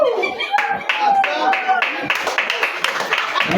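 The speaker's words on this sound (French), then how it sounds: "sous nos applaudissements" An audience at a family celebration claps in a steady patter of handclaps, close and fairly loud, with voices talking over the clapping throughout.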